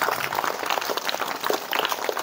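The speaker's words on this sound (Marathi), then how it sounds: "आपण सर्वजण त्यांचं टाळ्या वाजवून स्वागत" Dense, continuous clapping from an audience welcoming teachers at a school quiz program, loud and close, a steady patter with no pauses throughout.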